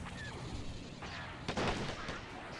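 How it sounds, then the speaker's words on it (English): TIE crawler blaster cannon firing in the Men of War Star Wars mod on Tatooine, a burst of sharp shots around the middle of the clip rising over a steady wash of battle noise. "The TIE crawler here is about to start shooting."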